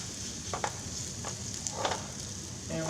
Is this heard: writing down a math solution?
no